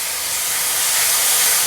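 Mango juice poured over jaggery and coconut in a hot pan sets off a loud, dense, continuous hiss of sizzling steam that swells slightly across the short moment, with no voices.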